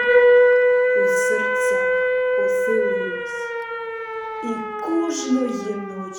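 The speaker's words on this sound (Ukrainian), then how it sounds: "Відлуння сирен." A steady, droning civil defense air-raid siren holds several sustained tones throughout, while a voice sings or speaks over it.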